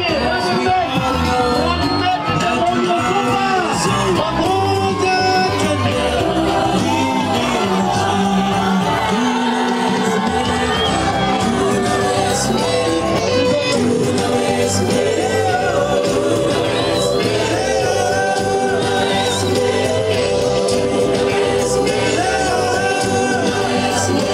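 A large crowd cheers, whoops and shouts continuously at a Peter Kenneth political roadshow in Kawangware, a loud, dense roar with voices mixed in throughout.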